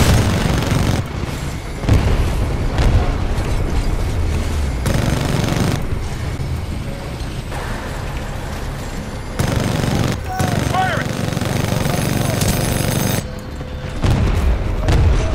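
Heavy weapon fire and booming explosions from a titan battle in the video game Titanfall 2, loud bursts crashing repeatedly over a dense roar of combat, with a voice speaking over parts of it.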